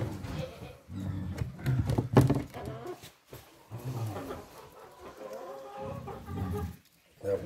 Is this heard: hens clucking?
yes